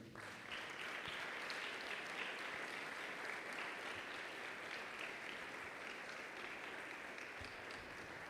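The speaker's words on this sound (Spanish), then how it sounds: "Dale un aplauso al Señor" A church congregation applauds during a sermon, dense steady clapping from many hands filling the room for several seconds, even and sustained with no voices on top.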